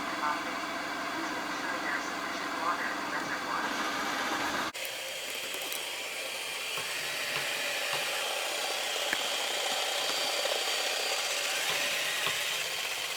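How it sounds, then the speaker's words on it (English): Yeedi Vac 2 Pro robot vacuum in mopping mode, its motor whirring steadily as the mop scrubs back and forth, with a brief dropout partway through and faint background noise throughout. "In the mopping mode, it's now become a lot more aggressive as it's scrubbing back and forth to get that mopping action"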